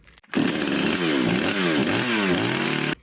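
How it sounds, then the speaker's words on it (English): A chainsaw starts up and runs loud and close, its engine buzzing steadily and rising and falling in pitch several times as it revs over about three seconds, with no talking. "I'm gonna go use a chainsaw again."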